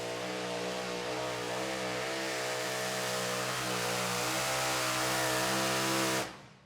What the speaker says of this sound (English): see these big-time horsepower trucks lay it down on this Carolina clay